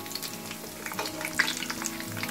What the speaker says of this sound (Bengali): এখন আমি গ্যাসের ফ্লেম লোতে রেখেছি, এবার লো ফ্লেমে ফ্রাই হচ্ছে